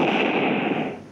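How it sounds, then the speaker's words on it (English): A bomb bursts in the Mini Militia shooter game, a loud, dense blast of noise that fades away over about a second. "I'm throwing one bomb"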